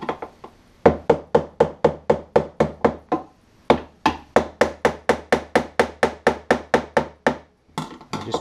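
Rapid, steady hammer taps on a metal ring during a BMW 1200 fuel filter service ring out in quick bursts, sharp and close, pausing briefly between runs of strikes.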